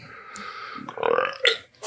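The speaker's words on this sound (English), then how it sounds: "Keep that belch in there." A person lets out a single drawn-out belch, close and fairly loud, rising toward the end with a short gurgling break, and no talking.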